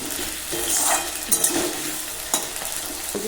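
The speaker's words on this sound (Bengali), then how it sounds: "লালচে করে ভেজে নিতে হবে।" Potatoes frying in a pan give off a steady, close sizzle with a few soft thuds and scrapes as they are stirred, no talking.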